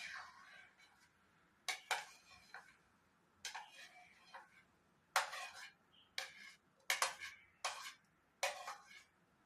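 Chopped fruit pieces clatter and tap into a bowl of gond katira drink in a series of separate close drops and scrapes, several bursts with short pauses, rather soft overall.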